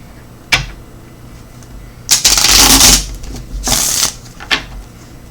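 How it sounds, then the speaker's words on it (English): Several bursts of tarot cards being riffled and shuffled close up, with quiet pauses and a couple of sharp taps between them. "Two more shuffles."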